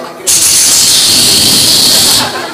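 A voice imitates the loud, steady hiss of tempeh and tofu frying in oil, one continuous sizzling burst lasting about two seconds, close and alone.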